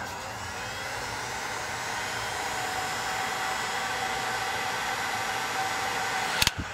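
Heat gun blowing on heat shrink tubing during electric vehicle battery management system wiring, a steady loud whooshing hiss of the blower held throughout, then ending in a few sharp clicks.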